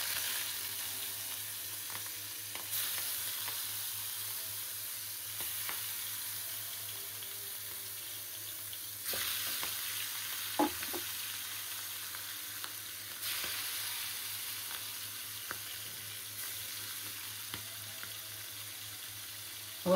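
Fish sizzles steadily in a hot pan, a soft continuous frying hiss with occasional faint clinks and stirring sounds, close and without talk.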